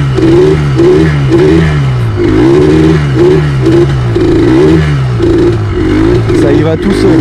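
A quad bike engine accelerates in first gear, revving in repeated rising surges that are loud and close, with the rider talking over the engine.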